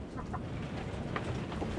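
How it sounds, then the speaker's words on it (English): A Blue Shamo rooster clucks softly in a few short, spaced calls over a continuous low background, fairly faint and close by. "He's a good rooster."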